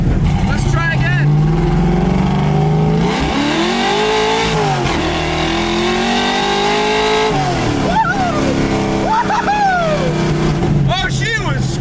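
A hopped-up 1965 Ford Mustang accelerates hard, its engine climbing in pitch through the gears with shift breaks, loud and close from inside the car, while someone talks over it.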